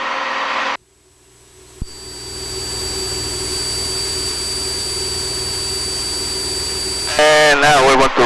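An aircraft engine drones steadily and loudly during the climb after takeoff from Edinburg, Texas, with a rising whine. Cockpit noise cuts in and out around it.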